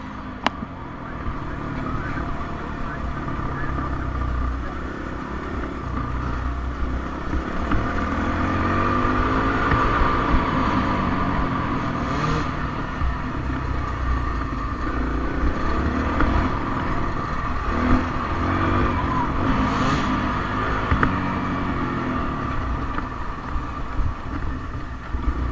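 A Kawasaki KLX 140G dirt bike rides a grass enduro track, its small single-cylinder engine droning loudly and steadily, swelling and easing with throttle changes, with no talk.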